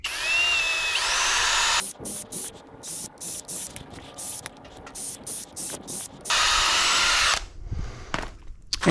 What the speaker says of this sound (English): so I'm drilling some pilot holes in here